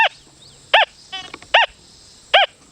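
An XP Deus 2 metal detector in pitch 1 tone mode sounding over a zinc penny, giving three short, loud, warbling beeps spaced apart against a faint background, with a brief softer chirp between the first two.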